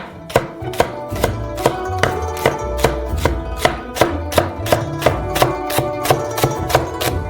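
A knife chops garlic chives finely on a cutting board in quick, regular strokes, each crisp knock sharp and close, sounding alone without any speech.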